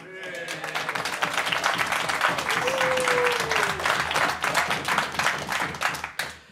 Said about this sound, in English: because of all the applause.